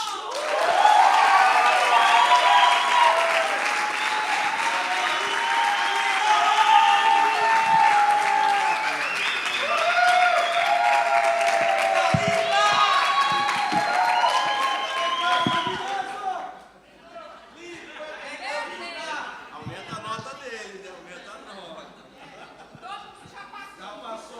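Conference audience giving warm, sustained applause to welcome a speaker, with cheers and laughter mixed in, before the clapping fades out.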